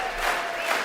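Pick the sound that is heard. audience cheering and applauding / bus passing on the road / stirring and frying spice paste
audience cheering and applauding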